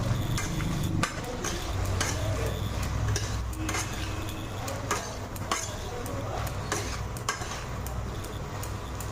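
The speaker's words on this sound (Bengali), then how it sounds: "নুন হলুদটা ভেজে নেব।" Salt and turmeric fry in a pan for a yardlong bean and potato curry, with soft sizzling under steady stirring and scattered clinks of a utensil against the pan.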